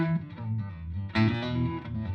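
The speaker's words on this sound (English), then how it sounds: "on my signature amp from our friends at Koch, I have the harmonic vibrato, which sounds like this." A guitar plays through the harmonic vibrato effect of a Koch signature amp, a couple of sustained chords with a wavering, pulsing shimmer, brief and fairly quiet.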